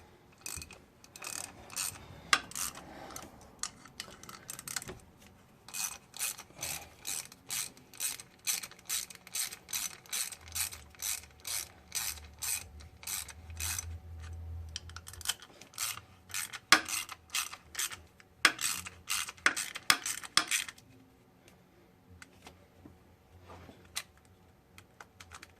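A torque wrench ratchets on timing chain slide bolts during a 2006 Cadillac CTS 2.8L timing chain installation, giving repeated bursts of quick mechanical clicks separated by short pauses, close and fairly quiet, with no talking.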